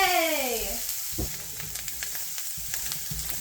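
Onions frying in olive oil in a pan give a steady sizzle that settles after an opening burst, with a few soft scrapes and knocks of a utensil underneath.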